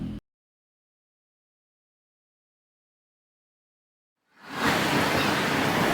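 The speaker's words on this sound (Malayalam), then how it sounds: "റോഡിൻ്റെ സൈഡുകളിലെല്ലാം അരുവികൾ ഒഴുകി പോകുന്നുണ്ട്" Roadside stream in Kashmir on the way to Pahalgam, a steady broadband rush of flowing water that starts abruptly after a few seconds of silence and continues loud and unbroken.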